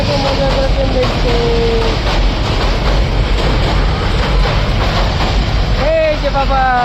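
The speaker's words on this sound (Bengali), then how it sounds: "ট্রেন গেল ট্রেন গেল" A train rumbles past close by with a continuous loud roar, rhythmic wheel clatter and a couple of sustained horn-like tones, while a person talks over it.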